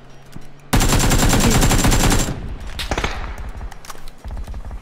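Rapid automatic gunfire in a PUBG match, a loud sustained burst of densely packed shots followed by scattered quieter shots and in-game clatter, with no talk.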